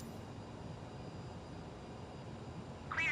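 A Cessna's engine drones steadily at takeoff power in a flight simulator game, a continuous low rumble with a brief brighter sound rising at the very end.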